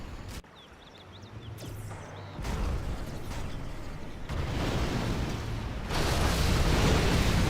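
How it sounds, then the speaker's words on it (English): Artillery shelling in the Generals Zero Hour real-time strategy game, heard as a dense, continuous rumble of booming explosions that swells louder in stages over several seconds. "Artillery now from Marakar up in the top left."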